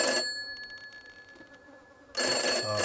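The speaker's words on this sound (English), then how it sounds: "I think the phone's just ringing." A telephone rings inside a video game farmhouse, two loud bursts of bright electronic ringing separated by a quieter pause with faint background tones, with no talking.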